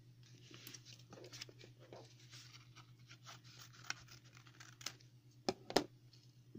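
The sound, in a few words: scissors angle-cutting paper for an envelope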